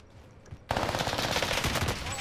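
Rapid automatic gunfire in Call of Duty Warzone on Rebirth Island erupts suddenly and continues as a dense, loud burst of shots, with a voice faintly beneath.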